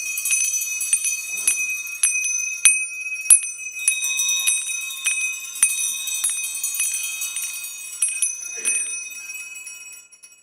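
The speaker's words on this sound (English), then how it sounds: "and then ring your bells" Small hand bells ring out in scattered overlapping strikes at a winter solstice ritual, clear bright tones with a bit of shimmer that keep chiming for about ten seconds before fading away.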